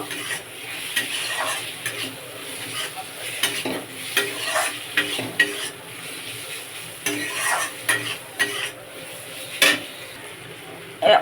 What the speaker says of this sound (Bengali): এবার ভেজে রাখা চিচিঙ্গাগুলো দিয়ে দেবো। দিয়ে এভাবে নেড়ে নেব।